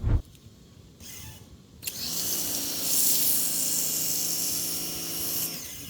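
A short hiss starts and stops, then a steady pressurized spray from an MJJC Foam Cannon S V3.0 with a 1.1 mm orifice runs for several seconds near the microphone before cutting off.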